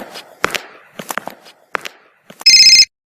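A telephone gives one short, bright electronic ring burst after a few soft knocks and footsteps, loud and close, cutting off abruptly.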